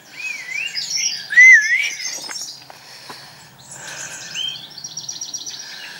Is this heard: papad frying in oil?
no